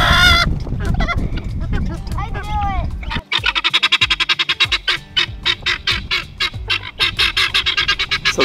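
Young chickens and guinea fowl in a small fenced area outside their coop call loudly and close, with honking, squawking cries and rapid repeated chattering. A person talks over the noise.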